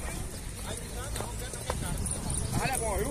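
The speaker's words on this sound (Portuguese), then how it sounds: "olha os cavalos andando aqui, ó" Horses walk at an outdoor livestock fair in Alagoas, their hooves clip-clopping faintly under a steady crowd murmur and nearby talk.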